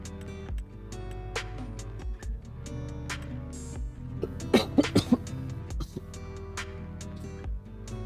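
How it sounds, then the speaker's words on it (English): Coughing in a quiet room, a cluster of several rapid coughs and throat clearing in the middle over a soft background hum. "I need to cough again."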